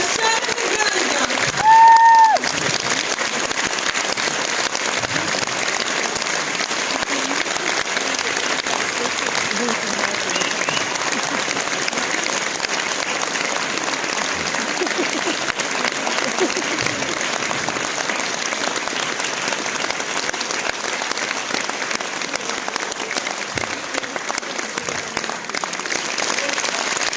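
A large audience at a charity folk concert in Stara Zagora applauds steadily and loudly for a long stretch, with a brief tone near the start and a voice faintly present.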